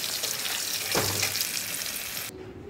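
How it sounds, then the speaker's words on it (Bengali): Potatoes sizzle in hot oil in a kadai, a steady close frying hiss with a brief stir partway through, cutting off sharply near the end. "আলুগুলো ভাজা হয়ে গেছে, এবার আলুগুলো তুলে নেব।"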